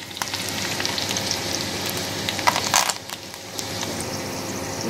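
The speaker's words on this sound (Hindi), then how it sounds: "इसके बाद हम इसमें जीरा डालेंगे, फिर आँच को थोड़ा कम कर देंगे, फिर रई डालेंगे, फिर उसके बाद सबसे आखिर में कड़ी पत्ता डालेंगे।" Cumin, mustard seeds and curry leaves sizzle in hot oil for a green chilli salan, a steady close crackle with brief sharper pops and spatters.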